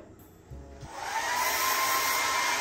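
A hair dryer switches on after a brief thump and quickly ramps up to a steady, loud airy whoosh with a constant whine, running close by with no voices over it.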